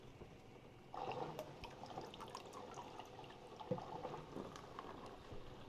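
C41 developing chemicals are poured out of a developing tank, a faint liquid trickle and splash that starts abruptly after about a second and runs on quietly with small clinks.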